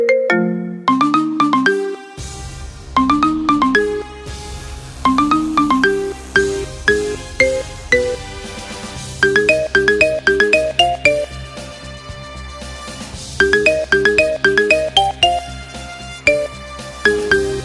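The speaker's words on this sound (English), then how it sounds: "Make your phone ring with the best ringtone of the year." Marimba remix of the NFL on Fox theme, played as a ringtone: bright, clearly pitched mallet notes repeat in rising melodic phrases over a low sustained bass layer that enters after about two seconds, loud and close with no voices.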